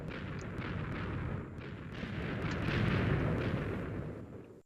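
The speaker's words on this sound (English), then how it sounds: "I still hear the explosions in the distance." Rumbling booms of explosions in Minecraft roll in from a distance, overlapping in a continuous low barrage that swells and fades, with faint crackles above.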